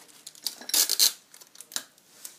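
Short bursts of adhesive tape peeling and sticking as it is wrapped around a glass jar, a few crisp tearing rips close by with quiet pauses between them.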